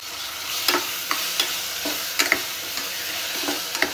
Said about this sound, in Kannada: ನಾನೀಗ ಮ್ಯಾರಿನೇಟ್ ಮಾಡಿ ಇಟ್ಕೊಂಡದ್ದು ಫ್ರಾನ್ಸನ್ನು ಇದಕ್ಕೆ ಹಾಕ್ತಿದ್ದೆ.